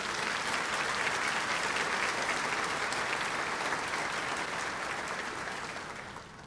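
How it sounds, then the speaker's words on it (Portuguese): Steady, dense applause from a church congregation fills the room for the whole stretch, holding loud and even before easing off slightly at the end. "Você pode dar uma salva de palmas, Jesus?"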